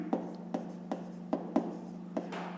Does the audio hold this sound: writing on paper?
yes